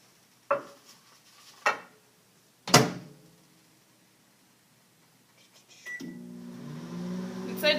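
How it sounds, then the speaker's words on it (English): Ham is put into a microwave oven: sharp door clatters and a loud slam come first, then after a quiet pause the oven starts and a steady hum runs on. "put my ham in the microwave"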